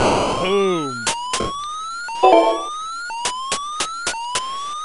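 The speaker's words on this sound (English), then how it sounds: "you just have an alarm blaring." Rising electronic alarm tones repeat in the video game Infiltrator, each sweep climbing in pitch, mixed with sharp clicks and bursts of game sound effects, loud and close.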